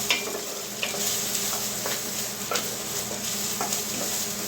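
Fennel seed and red pepper flakes sizzle steadily in a hot pan, a constant frying hiss broken by light scraping stirs and clinks of a utensil against the pan.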